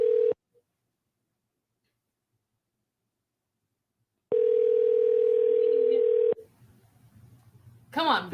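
A steady telephone ringing tone sounds in two long bursts separated by a silent gap, followed by faint background noise and a brief voice.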